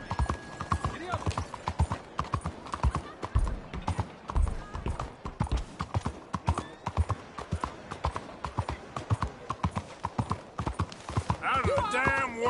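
Rapid, steady hoofbeats of a galloping horse in Red Dead Redemption 2, clip-clopping loudly throughout with a voice talking over it and a brief whinny near the end.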